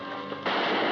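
Gunshots in a Western television drama, a short burst of loud close gunfire that cuts in sharply partway through and continues as a dense crackle.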